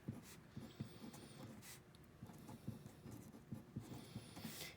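A pen scratches across paper in short handwritten strokes, quiet and close, a soft irregular rhythm of scribbles with no voices.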